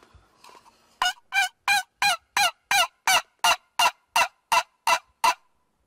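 A person imitates a hen with a call, about thirteen loud, evenly spaced honking clucks in a steady rhythm, close and alone after brief quiet.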